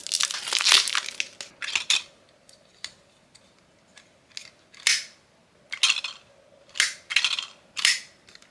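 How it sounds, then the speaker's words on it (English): A lollipop being pulled from a crinkly plastic wrapper from a My Little Pony candy dispenser: sharp, close crackles and crinkles in irregular bursts, with brief quiet gaps between handling sounds. "Go ahead and unwrap the lollipop."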